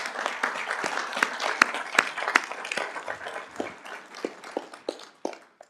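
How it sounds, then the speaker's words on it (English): Audience applause at a school board meeting honoring a cross country state medalist, a thin, sparse round of individual claps with distinct sharp hits, steady for several seconds before tapering off. "I think that deserves a round of applause."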